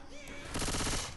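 A burst of rapid automatic gunfire rattles in Left 4 Dead 2, coming after a few quieter sounds and lasting about half a second at moderate level.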